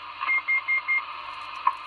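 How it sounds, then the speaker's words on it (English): A CB radio roger beep over a Cornwall channel: a run of four short, evenly spaced tones pulses above a steady hiss of radio static, with no talking. "Beep, beep, beep,"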